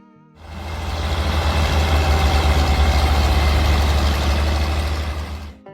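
A John Deere 4020 tractor engine idles steadily, a deep low rumble with a chugging pulse that starts abruptly and cuts off at the end; no talking.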